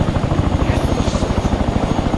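Inside an Arma 3 military helicopter, the rotor thumps in a rapid, steady pulse over a loud, constant engine drone, close and enveloping.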